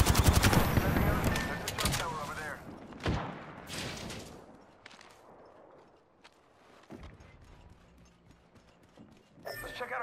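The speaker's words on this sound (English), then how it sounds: "Shots fired." Gunfire from the video game Apex Legends, a burst of sharp, loud shots early on, then scattered fainter bangs under in-game chatter and effects.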